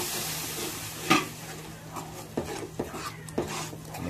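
Ground coconut, onion and garlic masala paste frying in a pan, giving a soft steady sizzle and hiss broken by a few sharp clicks of stirring.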